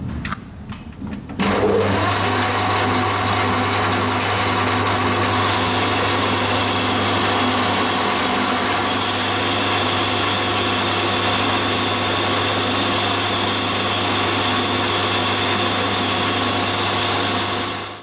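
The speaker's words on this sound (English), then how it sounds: "I'm going to bore that out to 38 diameter" A lathe bores out a cast aluminium bandsaw table part. After a brief clatter at the start, the machine settles into a loud, constant hum with a steady mechanical hiss that runs unbroken to the end.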